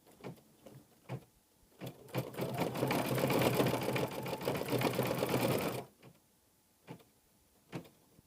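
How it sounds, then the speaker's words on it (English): An embroidery machine stitches the fringe detail of a quilted scarf in green thread. A close, steady whir lasts a few seconds, framed by isolated clicks and taps before and after, with no voices. "it's going to do the little fringe detail on the scarf, and it just does a few stitches"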